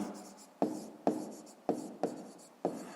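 A pen writes digits by hand for a fifth-grade maths exercise, giving five or six short scratchy strokes, each starting sharply and fading, heard close and quiet.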